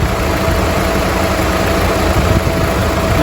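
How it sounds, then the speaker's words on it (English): Steady loud whirring drone of a Volkswagen Polo's radiator cooling fan running alongside the engine idling, constant and unbroken throughout, on a car with an overheating problem. "the fan is working."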